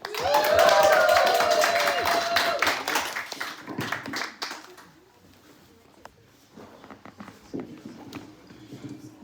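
Stand-up comedy audience at a Pride Month show cheering and clapping loudly, a dense burst of applause and whoops that fades over several seconds into scattered claps and murmuring.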